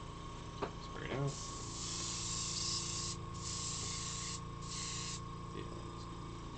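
Short bursts of spray paint hiss close up, three separate sprays with gaps between, after a brief voice and a couple of knocks from shaking the can.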